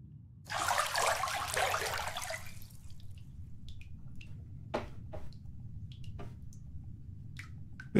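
Bathtub water in the horror game Silent Still splashes in a sustained sloshing burst for about two seconds, then gives way to sparse, distinct drips and small trickles over a low steady hum.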